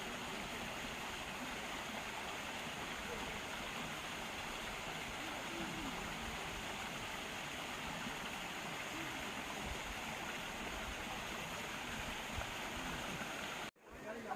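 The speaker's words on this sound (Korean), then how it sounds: "단풍과 어울려진 물소리 들으시면서 힐링하세요." A mountain stream in an autumn valley at Yongmunsan, Yangpyeong, rushes in a steady, unbroken wash of flowing water, close and even throughout before cutting off briefly near the end.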